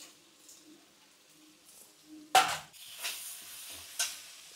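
Vegetables for fried rice stirred in a hot pan, with a soft sizzle under a sudden louder scrape of the spoon midway and a few lighter stirring strokes after.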